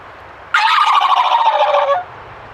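A turkey gobble imitated on a gobble tube call, one loud rapid rattling gobble lasting about a second and a half, close and alone against a quiet background.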